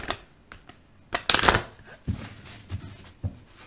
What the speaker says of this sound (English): So Let's pull you an oracle card